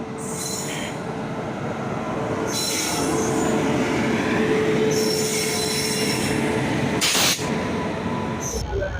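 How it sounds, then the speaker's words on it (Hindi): A train pulls into a station for a general-coach journey, steel wheels squealing in high shrill bursts over a steady rumble of the rolling cars, loud and near, with no talking. "तो ट्रेन आ गया है, तो अभी मैं जाऊँगा।"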